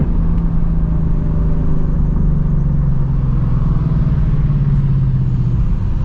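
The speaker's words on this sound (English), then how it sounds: "You already know I got that active exhaust enabled." Ford Mustang GT from 2024 with active exhaust enabled, its engine giving a loud, deep, steady rumbling drone from inside the car while cruising at night.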